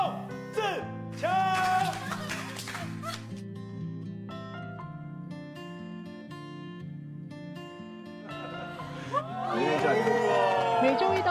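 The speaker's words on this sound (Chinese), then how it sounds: "让我们热烈的掌声欢迎凯旋归国的宋智强" A crowd cheers and shouts to welcome a returning athlete, a loud burst of excited voices near the end, following stretches of music and talk.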